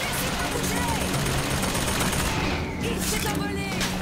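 Gunfire in the video game BioShock Infinite, a sustained rattling fusillade of shots under a dense game mix, with a brief dip in the high end near the end.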